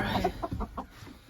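Several farm chickens cluck close by in a quick burst of short, choppy calls just before slaughter.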